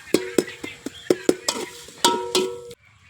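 Rooster meat being stirred and sautéed in a pan gives a run of sharp, close spoon or spatula knocks against the pan, roughly rhythmic with a faint sizzle underneath, ending abruptly.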